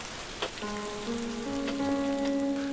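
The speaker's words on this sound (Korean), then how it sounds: "정말 비 많이 옵니다. 야쿠시마는 비의 섬." Heavy rain pours steadily on Yakushima island, a dense continuous hiss that holds at an even loudness throughout, with faint steady tones running underneath.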